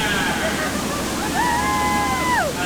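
Waterfall splashing on the Disney Jungle Cruise ride at Magic Kingdom, a loud continuous rushing wash with a sliding whistle-like tone over it and voices nearby.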